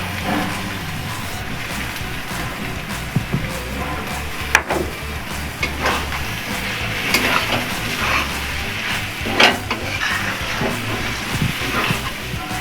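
Chicken liver and gizzard being stirred in a frying pan, a constant soft sizzle and hiss broken by scattered scraping knocks of the spoon against the pan, fairly close.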